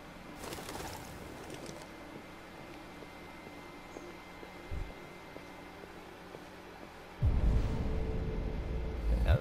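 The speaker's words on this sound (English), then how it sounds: "Move, pigeon." Pigeons cooing on a city street in Detroit: Become Human, soft repeated coos over a faint hum, followed by a louder rumbling wash of background noise near the end.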